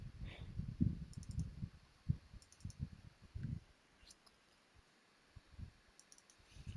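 A computer mouse clicks crisply and sparsely while someone works in an Excel spreadsheet, the quiet taps close by, scattered in small groups beneath a soft voice.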